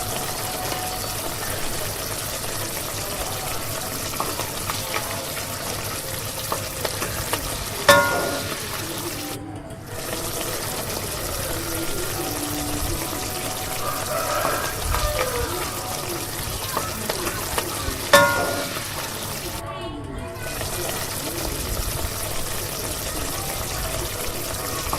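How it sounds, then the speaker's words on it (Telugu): Vegetables sizzle and crackle in hot oil inside a pressure cooker on a stove for sambar, a steady broadband frying hiss running throughout, with brief pauses and soft stirring clatter. "ఇప్పుడైతే సాంబార్కి వెజిటేబుల్స్ని అయితే వేయించుకుందాము."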